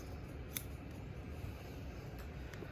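Scissors or shears snip the ends of a boy's haircut, blending after clippers, with a couple of sharp close snips standing out over a steady low room hum.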